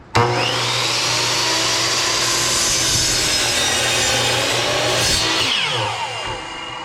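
A power saw cuts through wood in one continuous loud pass, starting abruptly, holding a steady whining roar for about six seconds, then tapering off as the cut finishes.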